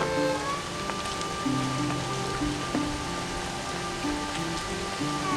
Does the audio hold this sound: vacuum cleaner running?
no